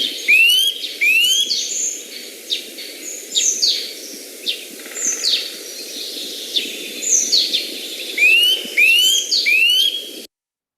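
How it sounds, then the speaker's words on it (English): Nuthatch song in a garden or woodland setting: repeated loud, clear whistled phrases and rising piping notes, some close and some farther off, running in bursts over steady low background noise. "Nuthatches, again, have a very wide repertoire of songs, but they all follow a similar theme"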